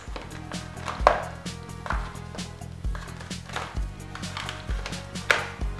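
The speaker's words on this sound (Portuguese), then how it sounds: "E agora a gente vai quebrar as bolachinhas." Crisp tapioca crackers snapped apart by hand, giving a run of sharp, close cracking and crunching breaks in an irregular rhythm, fairly loud with no talking.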